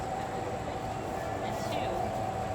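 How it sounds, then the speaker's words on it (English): A Hocking Valley Scenic Railroad train approaching, a steady low rumble and rail hum heard from a distance, continuous and fairly quiet, with a faint whine riding on top. "is it coming, the train? Is it? Yes. It's coming."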